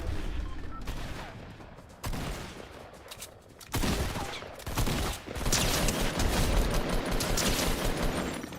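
Gunfire in a video game: a burst near two seconds, then heavier volleys of rapid shots from about four seconds on, building into sustained fire with a faint voice underneath.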